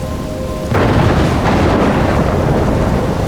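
Thunderstorm in the video game Life is Strange, a dense roar of heavy rain and rumbling thunder that surges in loudly after a brief quieter moment and holds steady throughout, with no voices.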